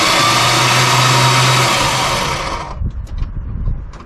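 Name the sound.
1973 Dodge Dart Swinger engine starting and running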